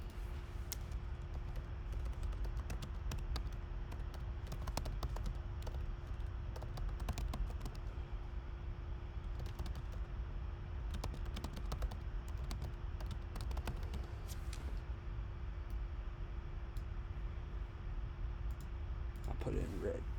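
Computer keyboard typing during a math lesson: irregular, steady clicks run throughout over a constant low hum, with a faint voice underneath.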